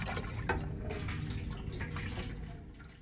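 Water is poured back into a container in The Last of Us: Left Behind, a steady, soft trickling and splashing stream running throughout at moderate volume.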